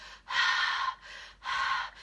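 Two forceful breathy huffs, forced exhales during airway clearance for cystic fibrosis, each about half a second long, separated by a short pause, close and fairly loud with no speech.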